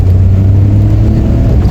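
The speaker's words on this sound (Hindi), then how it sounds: "अब जैसे मैं सेकंड में हल्का सा स्ट्रेच करके दिखाऊँ, देखो मतलब इमीडिएट रिस्पॉन्स जो था ना इस अल्टो का," Maruti Alto 800 engine pulling in second gear, a loud, steady low engine drone heard close from inside the car, with no talk over it.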